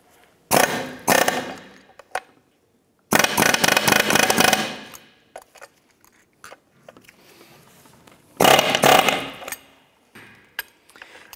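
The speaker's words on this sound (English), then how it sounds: "We're going to use our air hammer here to try and push us through." An air hammer pushes out a control arm bushing on a 1994-2004 Chevrolet S10, with loud rapid pneumatic hammering in three separate bursts of a second or more, broken by pauses with scattered clicks and taps.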